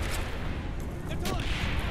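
Gunfire in the video game Call of Duty Black Ops, a dense, steady stream of shots and distant blasts over a noisy battle mix, with someone talking over it.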